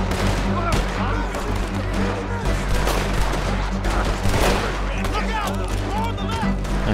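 Rapid pistol gunfire in the open-world western game Red Dead Redemption 2, dense sharp shots and echoing reports packed together continuously, loud and close, with a voice talking underneath.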